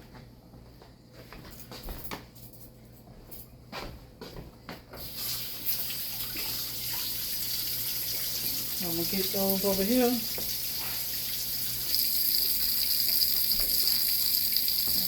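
Tap water runs steadily into a cooking pot in a home kitchen, a continuous hiss and gush that builds over the clip, with a person talking briefly early on.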